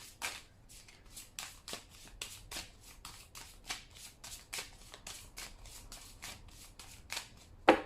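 Tarot cards shuffled for a reading, a steady run of quick riffling, flicking bursts repeating about twice a second, close and soft, with no talk over them.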